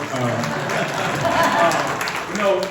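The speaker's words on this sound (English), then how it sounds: "Round of applause for our panelists." A crowd at a public education panel discussion claps for the panelists, a continuous moderate patter of applause mixed with some murmuring voices underneath.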